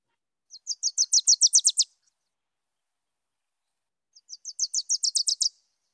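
A Wilson's warbler sings two bursts of rapid, high chattering notes, each a quick accelerating series of about ten chips, separated by a silent pause, clear and alone in quiet forest.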